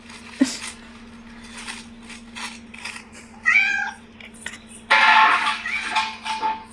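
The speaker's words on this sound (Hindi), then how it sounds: "नहीं, बिल्ली थी" A cat meows a few times indoors, close by, over a steady background hum, with clinks and clatter like dishes or cutlery rattling nearby.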